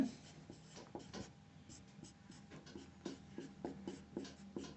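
Chalk or marker scratching and tapping on a board during a Hindi-language geometry lesson on similar triangles, with repeated short strokes in irregular rhythm, fairly quiet and close, with no speech.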